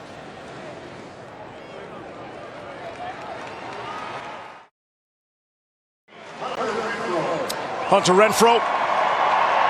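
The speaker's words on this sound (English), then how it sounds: "Nice applause here from the faithful who appreciate his efforts over his career at Clemson." Crowd applause for Clemson player Hunter Renfro at a college football game against Duke: a steady stadium roar of clapping and cheering, broken by a brief silent gap, then swelling louder with sharp claps while a commentator talks over it.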